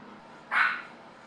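Sohi, a blue fawn Chihuahua, gives one short, sharp yip-like bark against a quiet room.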